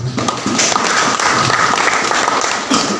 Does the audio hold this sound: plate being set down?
no